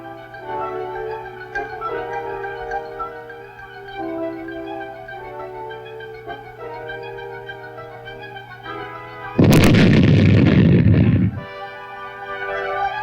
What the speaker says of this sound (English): these mines were destroyed by demolition experts using charges of plastic explosives